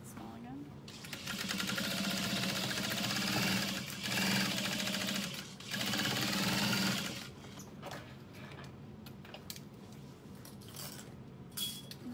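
A sewing machine runs in bursts while stitching a bag seam, loud and steady in three long runs with short pauses, then quieter handling sounds and clicks; a voice talks over it at times.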